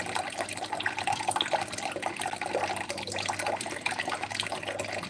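Water pours steadily from a tap into a container, a continuous rushing splash with no voices, close by.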